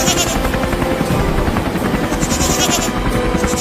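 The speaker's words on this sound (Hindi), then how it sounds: "अबे वो पायलट वहाँ नीचे लेकर चल हेलीकॉप्टर को" A helicopter drones loud and steady as it flies close overhead, its rotor chopping continuously throughout.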